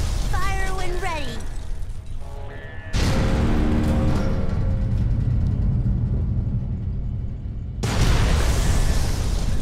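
Gunfire and explosions against an alien ship in Fallout 3 come as loud, dense blasts and mechanical clatter, with a sharp cut-off and a renewed burst near the end; brief synthetic tones sound at the start.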